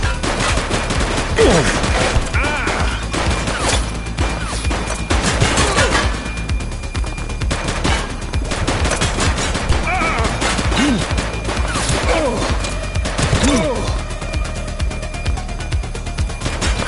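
Heavy gunfire in the video game The Precinct: loud, dense bursts of automatic fire and repeated sharp shots, with crashing impacts overlapping throughout.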